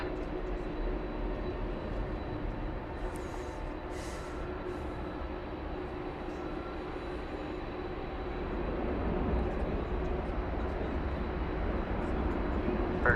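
An Envoy plane takes off from runway 18 left at Dallas Fort Worth Airport as a steady, distant broadband roar that swells gradually toward the end, with no talk over it.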